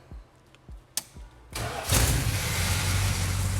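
A 1925 Dodge Brothers engine cranks with a few slow, labored turns, then catches and settles into a steady, rumbling idle.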